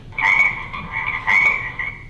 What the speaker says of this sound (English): There's a frog up there.